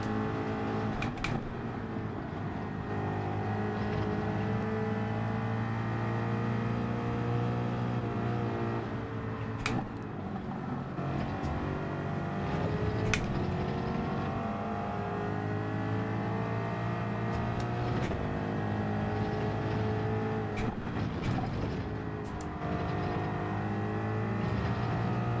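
A Group 3 race car in Gran Turismo 7 held at full throttle at Road Atlanta, its engine a steady, loud drone with shifting pitch and occasional sharp gear-change blips, with no talking.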